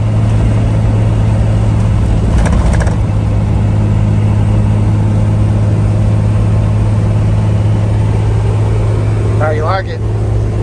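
An imported Toyota Land Cruiser Troopy cruises along the road, its steady engine and road drone filling the cabin without a break, with a brief chirpy sound near the end.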